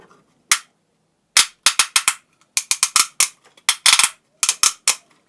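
Ratchet joints on a Transformers-style robot toy (WK-09 Onslaught KO figure) click sharply in quick clusters, a single snap followed by bursts of rapid close clicks with short silences between, loud and alone.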